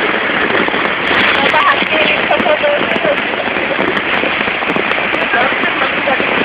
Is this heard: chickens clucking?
no